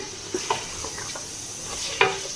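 Mutton frying in a cup of oil in a pan, a continuous close sizzle with a few scattered scrapes and knocks of stirring, one sharper clank near the end.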